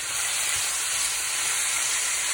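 Teriyaki stir-fry chicken cooking in a pan gives off a loud, dense, continuous hissing sizzle, close and unbroken, with no talk.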